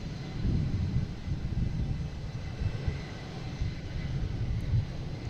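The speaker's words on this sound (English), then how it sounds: "We have an American Airlines. Just rolling in front of us here." American Airlines jet taxiing past at Boston Logan airport, a steady low engine rumble with broadband roar, moderately distant and even, no speech.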